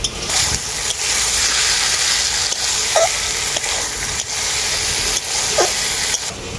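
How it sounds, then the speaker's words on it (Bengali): Small mourala fish fry in a pan with a loud, steady sizzle while a utensil stirs and scrapes through them, leaving occasional brief clinks, all close by and without speech. "মাছটাকে কিন্তু আমি বেশ কিছুক্ষণ ধরে খুব ভালো করে নাড়াচাড়া করে নিচ্ছি"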